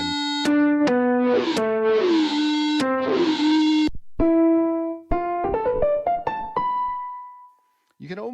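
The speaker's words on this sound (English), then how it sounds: "You can see the distortion, the artifacts coming in." Synth notes run through the AudioThing Fold wavefolder plugin on iOS, with a distortion preset adding buzzy, folded harmonics. The notes are sustained and then stepped in a quick melodic run, loud and clean and without talk, ending in a short gliding tone.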